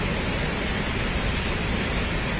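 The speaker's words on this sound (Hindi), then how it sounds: "इतना सुंदर मनोहर झरना कहीं भी देखने को नहीं मिलता है।" A mountain waterfall, the sacred Ashtavasu stream, roars as a loud, continuous broadband rush of falling water, steady and close, with no voices.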